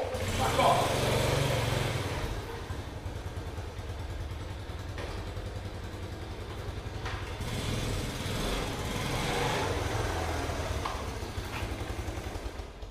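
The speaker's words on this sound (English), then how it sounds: "So to do an up change, we've accelerated. I want to go into second." Motorcycle engine running close by, revving under acceleration and easing off for an upshift into second gear, a steady low drone with a brief dip, while someone talks over it throughout.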